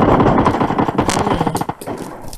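Loud, close automatic gunfire in PUBG Mobile, a dense rattling volley of rapid shots that fills the whole short moment.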